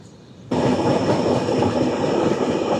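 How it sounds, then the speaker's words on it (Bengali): Saraighat Express train rolling into Khana Junction station, a steady loud rumble of wheels and carriages that swells abruptly after a quieter opening and then holds at a constant level. "ট্রেন আমাদের ঢুকছে খানা জংশন স্টেশন।"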